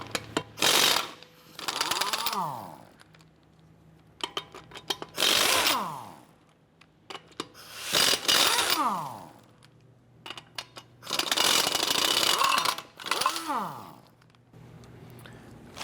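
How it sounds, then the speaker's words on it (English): A power tool with a 21mm socket loosens the lug nuts on a 2007-2012 Nissan Versa wheel, firing in four loud, rattling bursts that each wind down into a whirring spin-out, with quiet gaps between them. "let's go ahead and loosen and remove our lug nuts"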